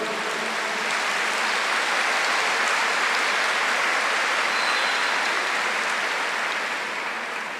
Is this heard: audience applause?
yes